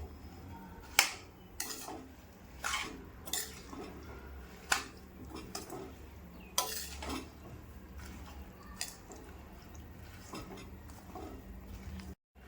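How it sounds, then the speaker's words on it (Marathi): Chillies being mixed into a masala pickle mixture in a bowl give off a string of sharp clicks and scrapes, likely a spoon against the bowl, spaced irregularly over a quiet background. "आता यातच ह्या ज्या मिरच्या होत्या त्या टाकायच्या आहे आणि मिक्स करून घ्यायचं व्यवस्थित"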